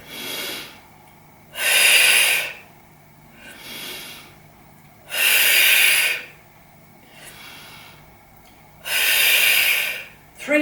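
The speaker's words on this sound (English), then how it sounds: "Breathe in, bend the knee, breathe out. Use that Pilates breath." Deep Pilates breaths during a total body workout: three long, loud, close exhalations alternate with quieter inhalations in a slow, steady rhythm, with no talking.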